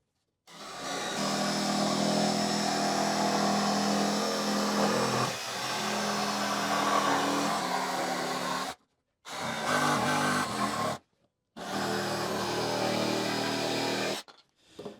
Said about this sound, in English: Then just a jigsaw around that. I'll be basically cutting it just like that, and I'm going to cut it right in place.